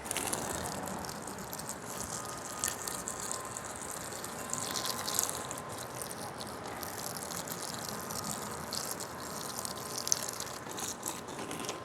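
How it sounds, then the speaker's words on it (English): Water poured onto the soil around a freshly planted chayote sprout, a steady soft gushing and trickling that runs continuously at moderate level with faint splashes, no talking. "we just water it."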